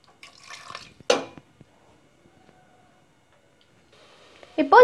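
A short splashy pour of water into a metal pot of mutton, then near silence with faint clinks before a voice starts speaking at the end.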